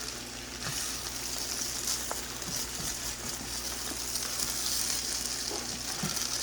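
Egg being stir-fried and mixed in a pan for basic fried rice, giving a steady close sizzle with scattered scraping and stirring clicks, and no voices.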